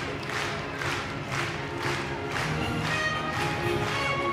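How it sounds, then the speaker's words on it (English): Crowd at Crufts applauding the Working Group winner, a two-year-old Bouvier des Flandres, in a large arena; sustained clapping and cheering carries at a steady level with no talk over it. "Strong applause for him."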